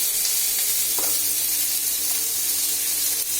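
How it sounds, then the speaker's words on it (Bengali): Brinjal and potato pieces sizzle steadily as they fry in oil in a pan while fish curry is cooked, a continuous close hiss with faint clinks near the start. "এই বেগুন আলুটা একটু ভাজা ভাজা হয়ে এসেছে"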